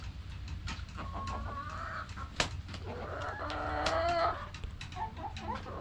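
Chickens cluck and a rooster calls nearby, irregular fowl sounds over a low outdoor background hum, with no one talking.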